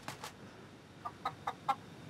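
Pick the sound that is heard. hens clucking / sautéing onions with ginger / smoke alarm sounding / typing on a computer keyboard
hens clucking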